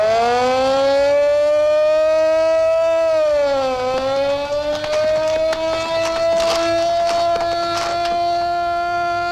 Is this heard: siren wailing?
yes